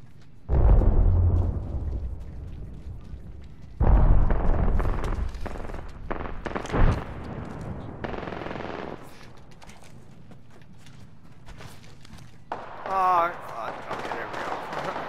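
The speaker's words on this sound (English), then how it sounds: "It sounds like gunfire over there." Gunfire in the video game Apex Legends crackles in bursts, with loud volleys near the start and around four seconds, then scattered shots and blasts continuing at a distance while a player talks over much of it.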